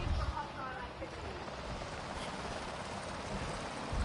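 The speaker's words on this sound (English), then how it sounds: "I hear another helicopter nearby." A helicopter in the Avatar Frontiers of Pandora video game drones as a steady, low rotor rumble, nearby and fairly constant in level throughout.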